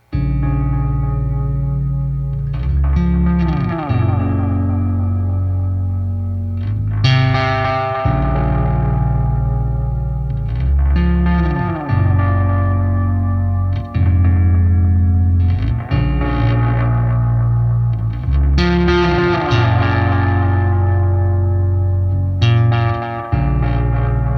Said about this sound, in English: it's a delay pedal meant to emulate the sound of an old videotape